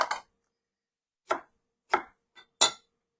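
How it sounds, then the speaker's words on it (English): Ginger is minced with a knife, giving four or five sharp, separate chops spaced unevenly after a short pause, crisp and close in a quiet room. "See if that ginger minces up."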